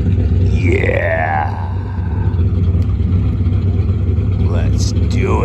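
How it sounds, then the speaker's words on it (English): A heavy, constant drone of race car engines rumbles throughout at night racing, with rising and falling revving tones sweeping over it and voices talking on top. "Listen to those engines rev."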